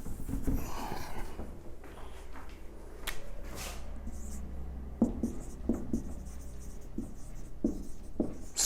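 Writing words by hand during a physics lesson, light scratching strokes and a few sharp taps of pen on a surface, close by over a low background rumble, with no talk.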